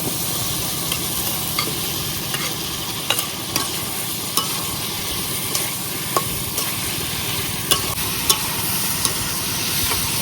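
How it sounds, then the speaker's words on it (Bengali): Fried raw papaya pieces stirred into a spiced masala curry in a pan sizzle steadily, with irregular clinks of the spoon against the metal as it is moved. "ভাজা রাখা পেঁপে গুলা দিয়ে দেব।"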